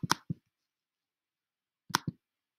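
Two sets of sharp mouse clicks on a computer, each a quick double or triple tap, spaced about two seconds apart in a quiet room.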